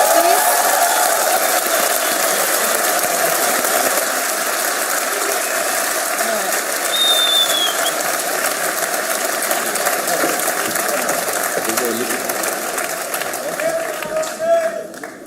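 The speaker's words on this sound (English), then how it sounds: "Can we get a round of applause for your TI8 winners, please?" An event crowd applauds and cheers the TI8 champions, the Dota 2 team OG, at a True Sight screening: a loud, dense, steady roar of clapping that holds for the whole stretch and eases slightly near the end.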